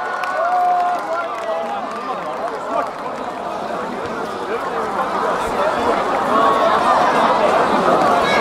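Crowd applause and cheering for a K-pop group at an outdoor university festival concert in the rain, a steady wash of clapping and voices held at a fairly even, full level throughout.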